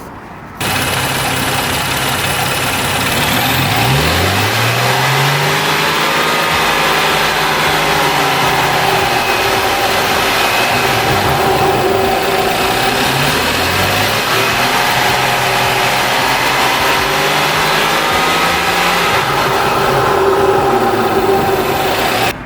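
A modified BMW F30 335i engine idles and then revs up repeatedly in a sustained, loud run with rising and falling pitch, heard up close with no talking.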